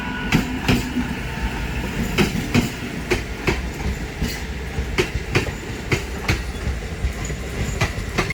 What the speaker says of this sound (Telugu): మ్యాంగ్లూర్ సెంట్రల్కి వెళ్తుంది ట్రైన్.